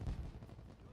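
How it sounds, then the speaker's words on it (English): Short burst of deep booming pops from fireworks in The Sims 4, a muffled rumble lasting about a second. "Watch the fireworks!"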